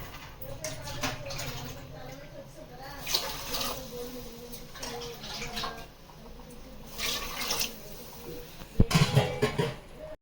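Water pours into a pot for chicken biryani rice, a running splash in several bursts, while people talk over it throughout.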